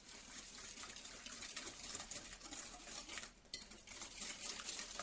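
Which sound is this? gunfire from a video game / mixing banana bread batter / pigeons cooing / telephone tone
mixing banana bread batter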